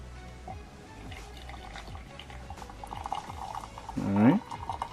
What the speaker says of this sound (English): Let's pour out the water.